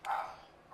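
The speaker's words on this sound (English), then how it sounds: "And dogs barking." Dogs in the video game Dark Souls give two short, sharp barks, one at the start and one at the end, nearby and alone.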